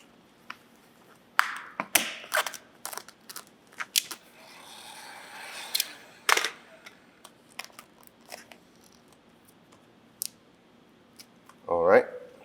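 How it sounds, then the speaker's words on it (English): A sharp blade slicing VVivid Ultra Gloss Clear Holographic vinyl headlight tint along the headlight edges, heard as scattered short scratchy cuts and snips spread through the clip, close and fairly quiet, with a brief louder rustle near the end. "I'm just going to cut right on the edges here."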